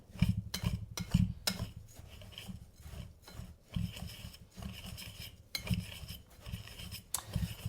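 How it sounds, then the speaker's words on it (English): A whisk scrapes through dry bread dough ingredients in a bowl, producing close, quiet rasping strokes and clicks against the sides in an irregular rhythm, alone without talk. "I'm whisking everything."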